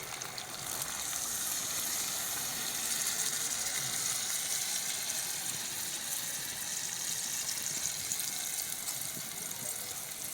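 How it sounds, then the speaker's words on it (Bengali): Water poured into a pan of cooked chicken leg pieces in ground-spice masala, a steady broad rushing hiss that runs evenly for about ten seconds, close and without speech. "কষানো হয়ে গেছে, এবার জল ঢেলে দেব।"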